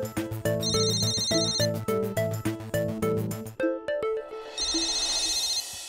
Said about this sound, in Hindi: मम्मी जी देखिए मेरे फोन पे किसी का फोन आ रहा है